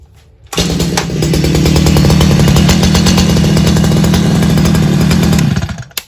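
A Stihl MS 210 chainsaw engine starts and runs loud and steady at high idle for about five seconds, then cuts off abruptly.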